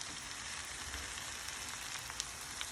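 Onions, garlic and sausage fry in a pan for a breakfast casserole, giving a steady, even sizzle with faint crackles and pops and no talking.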